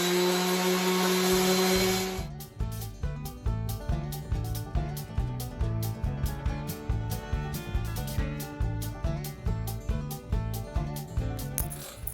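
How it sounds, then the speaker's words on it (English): A power sander runs on a wooden walking stick made from a fallen tree branch: a steady high whine at first, then a rhythmic, repeating rasping pulse as the sander is worked along the wood, close by. "I give it a rough sanding with a power sander"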